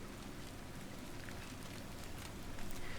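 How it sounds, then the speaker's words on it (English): Steady rain falls in the Farmer's Dynasty farming game, a soft, even wash of patter with no breaks and no voices, growing slightly louder at the very end. "It's still raining."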